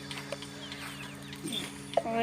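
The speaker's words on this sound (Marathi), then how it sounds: "हे आपल्या कोंबड्या" A few chickens cluck briefly and nearby at a rural home, the calls mixed under a person talking, with a sharper cluck near the end.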